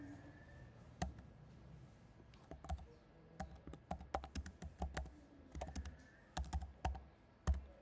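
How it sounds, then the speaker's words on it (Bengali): Quiet computer keyboard typing, with scattered irregular key clicks and short bursts of keystrokes, fairly close and low in level, with no voices. "তারপর এন্টার চাপতে হবে।"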